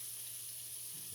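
Liver and onions frying in a pan for a Southern-style dish, giving a soft, steady sizzle that stays quiet and even throughout this brief moment.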